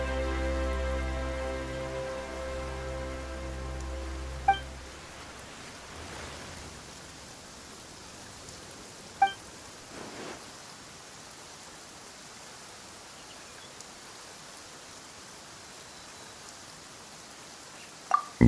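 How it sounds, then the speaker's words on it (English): Sudden rain in the video game Genshin Impact, a steady hiss of falling rain that continues throughout with no talk. A few faint isolated drops or ticks stand out, and a low tonal chord fades away near the start. "Why is it raining all of a sudden?"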